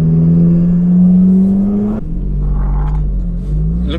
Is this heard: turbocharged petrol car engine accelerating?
yes